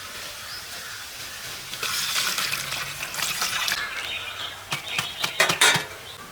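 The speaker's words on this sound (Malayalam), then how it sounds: "അപ്പം നമുക്ക് ഇതിൻ്റെ അത് കുറച്ച് വെള്ളം ഒഴിച്ചു കൊടുക്കാം." Water poured into a cooking pan for instant Yippee noodles, a broad hissing splash that starts near the two-second mark and runs on, joined near the end by sharp clinks of metal cookware.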